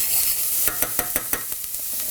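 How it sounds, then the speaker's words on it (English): Chopped onion and garlic fry and sizzle in a pan, with a steady hiss broken by a quick series of sharp scraping stirs from a utensil, no voices. "frying off your chopped up onion and some garlic"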